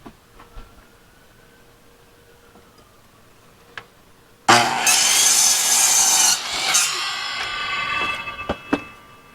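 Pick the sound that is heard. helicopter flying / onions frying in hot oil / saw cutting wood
saw cutting wood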